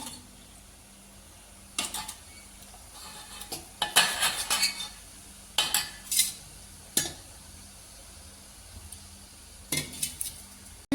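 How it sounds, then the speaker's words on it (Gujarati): A metal spoon mixes gram flour with ghee in a pan, giving irregular bursts of scraping and clinking against the pan over a quiet background hum. "ચણાના લોટમાં થોડું ઘી નાખીને મિક્સ કરી દઈએ"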